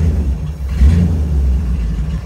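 A 1974 Ford Bronco's engine rumbles low and loud from inside the moving vehicle, a steady throaty drone with a slight swell in revs partway through.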